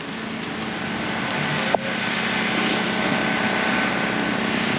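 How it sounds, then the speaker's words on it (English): Steady broadband rain hiss falls across an outdoor market with empty vendor spots and parked cars, a continuous even wash with one brief sharp click partway through and no talk. "Here comes the rain."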